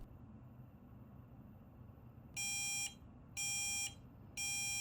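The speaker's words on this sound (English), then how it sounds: "after that, the buzzer will start beeping" Three loud electronic beeps from an EDU PICO water-drinking reminder buzzer in a steady on-off rhythm, each about half a second long, sounding over a quiet background hum.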